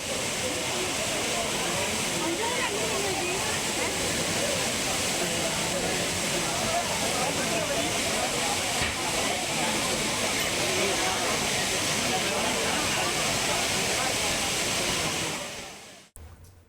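Steady, loud rush of water pouring over the Courtallam waterfalls, a broad continuous roar that holds evenly throughout and cuts off abruptly near the end.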